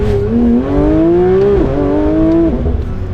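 A Porsche 992 GT3 RS engine revs hard and close, its pitch climbing through one gear, dropping at a shift, then climbing again before another shift near the end. No one speaks.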